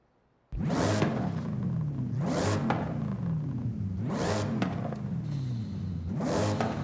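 Supercharged V8 engine of a car in Forza Horizon 5, roaring in repeated rev cycles: four rising pulls that climb, cut off and rise again, loud and close with no talk.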